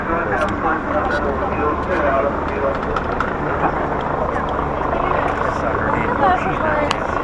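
A helicopter overhead at a mock DUI crash demonstration at Wallace High School in Idaho gives a steady, loud rotor drone for the whole stretch, with people talking over it.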